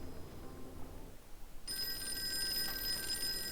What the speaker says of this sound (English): I'll answer the damn phone